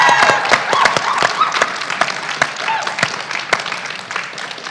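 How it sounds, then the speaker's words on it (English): An audience at a talk breaks into brisk, steady clapping that rings out close and lively for several seconds, with some voices mixed in. "I'd like to clap for that."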